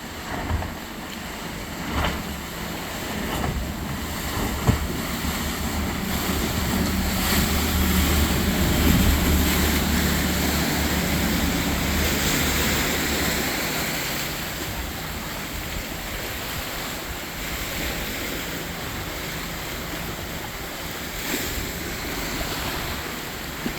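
Choppy water in the Point Pleasant Boro Canal slaps and washes against a boat's bow under a steady engine drone, a continuous loud rushing roar with occasional sharper splashes and no talking.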